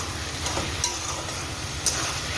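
Mustard seeds, panch phoron, green chillies and dried chillies fry as a tempering for dal, giving a steady soft sizzle with a few sharp crackles and pops.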